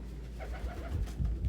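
Pigeons coo in a low, soft series of repeated throaty notes, close by and steady, with no talk over them.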